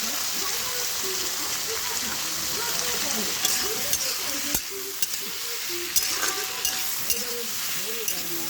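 Fish curry with green chilies fries in a pan, a constant close sizzle with scraping stirs and small clinks of the spatula, while a voice talks quietly underneath.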